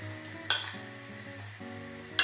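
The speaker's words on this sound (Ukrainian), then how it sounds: "Все добре перемішую." A wet grated-potato pancake mixture with starch being stirred in a bowl, soft squelching over steady background music, with two sharp clinks of a utensil against the dish.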